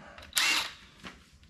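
A power tool backs bolts out of a TH350 transmission front pump in one short, high whirring burst, followed by a faint mechanical clunk.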